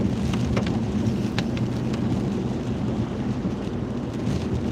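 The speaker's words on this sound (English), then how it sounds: "This is a lot of rain." Heavy rain pours steadily in a dense, constant wash, with deep rumbling thunder rolling underneath and a few sharper drop impacts on nearby surfaces; no voices.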